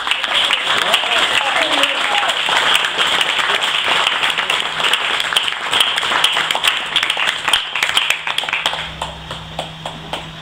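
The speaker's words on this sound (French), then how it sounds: "je voudrais qu'on fasse un très grand applaudissement à Paul" A crowd at a February Saint Valentine's gathering gives Paul a long, loud round of applause, a thick wash of clapping that thins toward the end into scattered individual claps.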